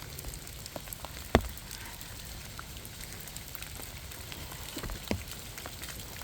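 Rain falling steadily at a coastal state park campground near a picnic table and fire pit, a soft continuous hiss with a couple of sharper drip ticks, no voices.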